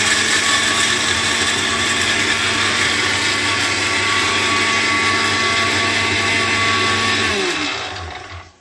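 A mixer grinder grinding ingredients for a Chettinad kootukai kuzhambu runs with a loud, steady motor whine and churning rattle close by, then spins down and stops near the end.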